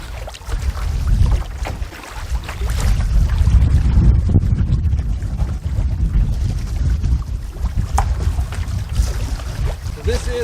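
Solo canoe on a windy lake, with rushing wind buffeting the microphone and low water sloshing against the hull almost throughout, plus occasional paddle splashes.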